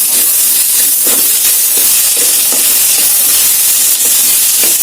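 Tomatoes fry in a hot pan, a loud, constant hiss and sizzle close by, with a few faint clicks and no speech.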